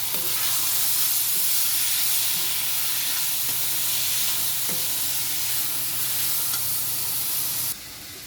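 Vegetables fry in oil with raw onion and chillies, a loud, steady hiss and sizzle close by with faint stirring knocks, dropping quieter near the end.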